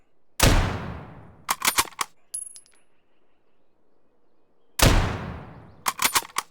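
Two loud gunshots in the survival shooter Road to Vostok, each followed by a long fading echo and a quick cluster of metallic clicks and rattles from the weapon's action, with a quiet gap between.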